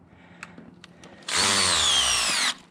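Bosch power drill driving screws, a loud close whirring burst of about a second after a few quiet taps and clicks.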